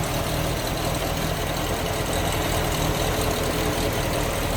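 A 1979 MG Midget 1500 engine with a Stromberg carburetor idles with a smooth, steady, even rumble throughout, close and continuous with no voices.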